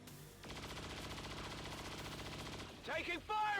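Gunfire in the video game XCOM 2 Long War of the Chosen, a rapid sustained burst of automatic shots lasting about two seconds, followed by a brief voice in the game.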